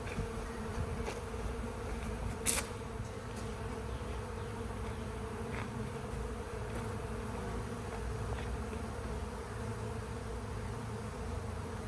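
A swarm of bees hums in a constant low drone from a hive box, with one brief sharp knock partway through and no voices.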